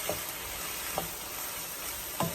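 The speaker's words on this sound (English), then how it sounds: "Kind of mix it well together with the onion right here, the sauteed onion." Curry paste frying and being stirred into sautéed onion for spicy curry chicken feet, a steady sizzle with a few soft spoon scrapes against the pan, close and moderately quiet, with no talking.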